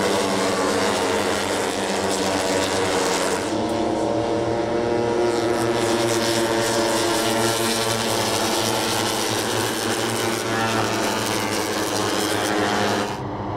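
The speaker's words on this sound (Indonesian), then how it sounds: "Sudah terdengar mesin memasuki sektor terakhir" Steady, loud engine drone with a droning buzz, holding constant throughout with no voices, like several 150cc National Sport racing motorcycles revving together nearby at Mandalika circuit.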